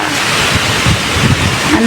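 Storm water and wind during Typhoon Uwan, close behind a spot by the sea, make a steady, loud broadband roar of rushing water and gusting wind that holds without pause throughout.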